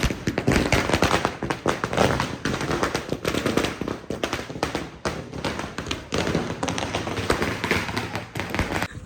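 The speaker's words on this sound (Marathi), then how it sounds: "गाईज आता फटाके लावले" A string of firecrackers bursting outdoors during Diwali celebrations, a dense rapid crackle of loud pops and bangs going on without pause for several seconds, close by and harsh, with no talk over it.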